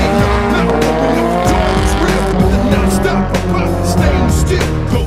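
At a street drift event in Sochi, a drift car's engine roars loud and close while its tires squeal and skid continuously, with engine revs surging and dropping throughout.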